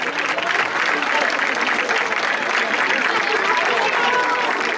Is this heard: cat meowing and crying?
no